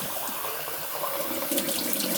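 Cold tap water runs over basmati rice being rinsed in a sink: a close, continuous splashing rush with small gurgling variations throughout, no voices.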